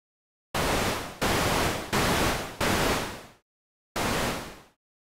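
Five bursts of white noise from a synth, each switching on abruptly and fading slightly before cutting off, with a longer silent gap before the last burst.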